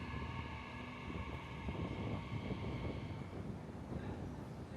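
Istanbul metro train running, a steady continuous rumble with rattling wheel and carriage noise throughout, close and fairly loud with no voices.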